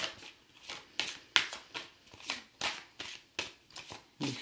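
Cards from a fairy oracle deck are handled and drawn, giving a steady run of crisp papery flicks and slaps at an even rhythm, close and fairly quiet, with no voices.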